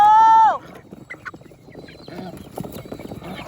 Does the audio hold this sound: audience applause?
no